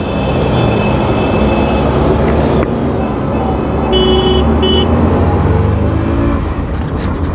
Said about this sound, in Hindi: मतलब साउंड देखो एग्जॉस्ट का